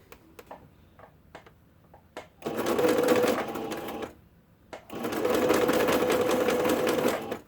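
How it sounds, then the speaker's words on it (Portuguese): An industrial straight sewing machine stitches a hem in knit fabric, running in two loud, steady whirring bursts of about two seconds each, with small clicks and handling sounds between them. "Sempre eu tenho que segurar a linha aqui no início da costura."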